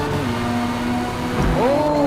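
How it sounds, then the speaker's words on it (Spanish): A Toyota Supra engine in a racing video game holds a steady, buzzing tone, then dips and climbs sharply as the revs rise near the end, loud and continuous. "Como suena el Supra, sabroso suena. Escuchen, escuchen ese motor."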